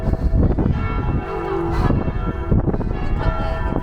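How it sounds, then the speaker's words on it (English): Church bells ring loudly and continuously at a medieval festival in Domfront, France, a dense clangor of overlapping peals with no pauses, heard close up in the open air. "The bells, Esmeralda."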